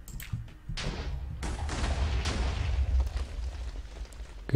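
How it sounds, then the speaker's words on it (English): In Minecraft, TNT blows up a chest in a burst of several loud, close blasts that merge into a long, rumbling roar of debris before it slowly dies away. "That made a lot bigger of an explosion than I thought it would have."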